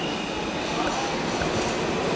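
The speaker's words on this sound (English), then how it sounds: "let the train pass, not run for it" A train rolls through a station platform with a steady, loud rumble and rushing hiss, continuous for the full stretch, with faint rail clatter and no voices.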